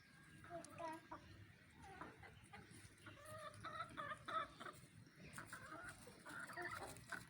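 Farm chickens cluck and chatter while being fed bread, a faint, busy mix of overlapping bird calls with scattered voices talking underneath throughout.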